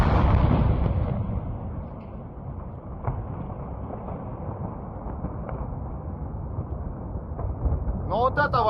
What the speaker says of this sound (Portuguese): Aqui outra imagem também da explosão ali em Toropets